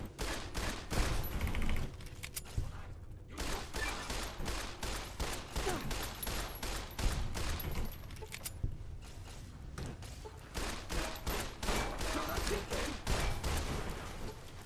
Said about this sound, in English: Shooting these robots also reminds me that I originally wanted iBots instead of Mr. Handys floating around